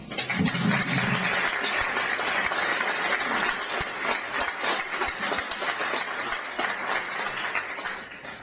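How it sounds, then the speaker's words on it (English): An audience at a conference applauds, a dense sustained clapping that fills the room and stays loud before easing slightly near the end. "So if we could give her a hand of applause."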